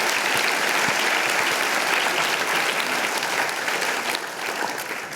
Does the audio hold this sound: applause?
yes